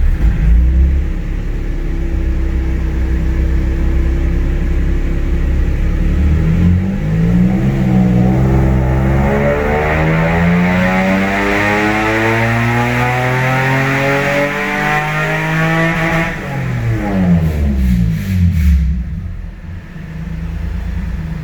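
A 2003 Nissan 350Z engine revs up hard during a tuning run, pitch climbing steadily into a loud sustained high-rpm roar before dropping back at the end. The sound is close and continuous, and no voices are heard.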